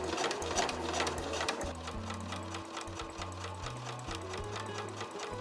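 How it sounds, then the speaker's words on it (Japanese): A sewing machine stitches a fur tote bag in quick, rhythmic bursts of mechanical whirring and ticking, heard close and alone with brief pauses between runs. "続けて縫っていきましょう。"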